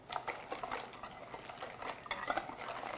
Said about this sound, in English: I'm just going to whisk that in